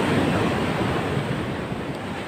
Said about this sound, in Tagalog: Panahon na naman ng taglaki ng alon.